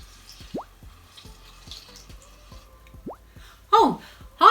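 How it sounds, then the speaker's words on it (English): Water in a bowl stirred with a straw: a handful of small drips and plops with upward-gliding bubbly tones, sparse and close, ending in a louder splashy burst. "I'm just experimenting with a bowl of water and a straw"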